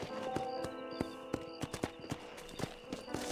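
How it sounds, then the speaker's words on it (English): Horse hooves clip-clopping in the Red Dead Redemption video game on Nintendo Switch, a run of sharp, evenly spaced steps over a steady musical background, close and clear. "Colocar meu cavalo ali."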